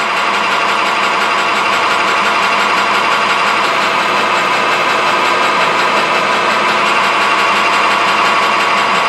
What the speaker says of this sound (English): I'm going to drill this fairly deep.